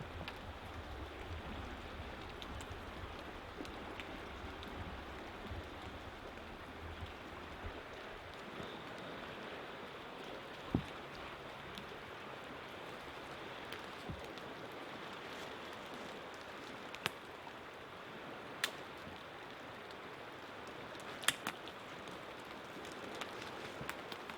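Steady rain falls through a forest campsite during a thunderstorm, a continuous broadband hiss with a few sharp isolated drips or knocks standing out, no voices.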